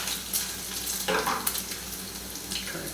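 Bacon frying in a pan, a quiet, steady sizzle with brief louder crackles and spatters, heard alone without speech.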